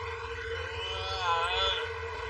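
A wailing ambulance siren rises and falls in a sustained tone, heard from inside the ambulance at a roadside traffic incident, with a low rumble underneath.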